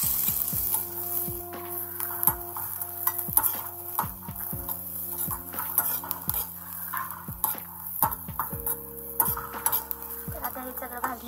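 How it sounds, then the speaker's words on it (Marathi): Green chillies roasting in a little oil in a pan, with repeated clinks and scrapes of a utensil against the pan over a steady low hiss, close and continuous with no talk. "इथे मी थोडंसं तेल ॲड करणार आहे, मिरच्या भाजत नाही म्हणून"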